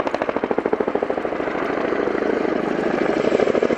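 A Chinook twin-rotor helicopter at an airshow beats out a loud, rapid, rhythmic rotor chop close by, steady throughout the whole stretch.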